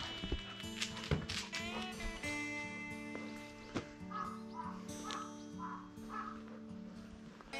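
Crows caw repeatedly outdoors, a series of varied harsh calls at moderate distance, with a few soft footsteps in between and no talk.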